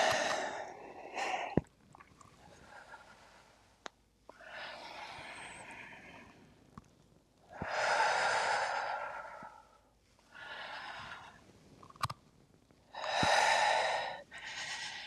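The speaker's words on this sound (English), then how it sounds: "Inhale. And exhale." Slow, deep yoga breathing, each inhale and exhale drawn out over a couple of seconds, close and clear, with a few soft clicks between breaths and no talking.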